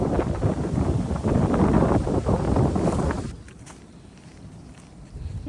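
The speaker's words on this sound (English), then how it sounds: "It's a little windy today." Gusty wind roars against the microphone for about three seconds, then drops off abruptly to a quieter outdoor background with faint rustling.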